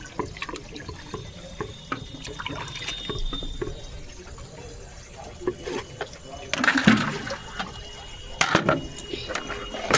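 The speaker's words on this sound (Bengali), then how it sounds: "তো দেখো আমি ধুয়ে নিচ্ছি বালতিতে" Vegetables, including taro, being washed by hand in water in a bucket at an outdoor washing spot, with soft sloshing and splashing that grows louder and busier toward the end.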